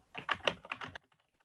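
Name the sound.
typing on a computer keyboard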